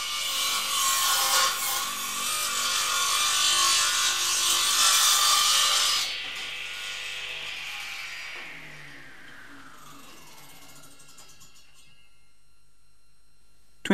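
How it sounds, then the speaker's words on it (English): A DeWALT radial arm saw makes a compound miter cut through wood, a loud whining blade biting steadily for six seconds before the motor winds down and coasts to silence. "Combining a bevel and miter cut produces a compound miter."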